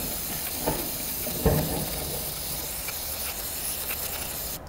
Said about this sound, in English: Spray it out with your brake cleaner.